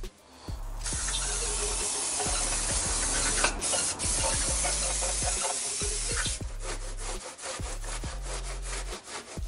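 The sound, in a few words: spraying degreaser to clean a cylinder head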